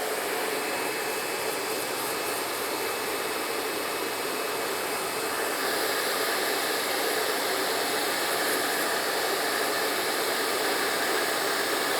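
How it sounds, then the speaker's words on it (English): A blow dryer blows loose hair off a client during a taper haircut in a barbershop, a loud, continuous whooshing whine held close to the microphone, its tone shifting slightly partway through, with no talking. "I'm gonna grab my blow dryer."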